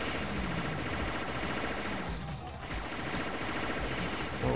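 Continuous dense gunfire from the most powerful weapon in the shooter game Alien Shooter, loud and unbroken, with rapid shots blending into a heavy roar and no voices over it.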